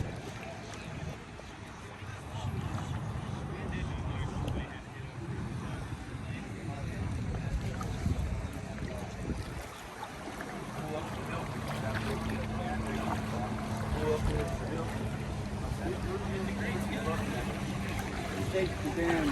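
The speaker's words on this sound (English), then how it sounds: "There's a bunch of boats here." Motor boats running on a lake give a steady broadband engine and hull rush with wind noise, and a droning tone appears partway through while someone talks over it.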